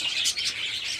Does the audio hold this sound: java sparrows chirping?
yes